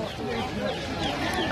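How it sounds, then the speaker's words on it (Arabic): Chickens cluck close by at a busy poultry market in Baghdad, with several birds calling over one another while people talk nearby. "دجاج سلكي هذا"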